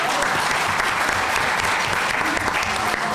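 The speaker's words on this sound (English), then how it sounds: "If you want to hold your applause till the end, we'll get through this a little quicker." Loud, dense applause from a town hall meeting audience, sustained and even from start to finish with no gaps, close and full-sounding, without speech over it.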